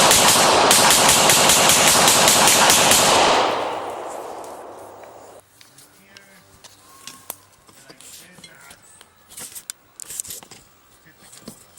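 Gunfire at an outdoor shooting range: a loud, rapid burst of shots for about three seconds, then scattered sharper single cracks and quieter activity.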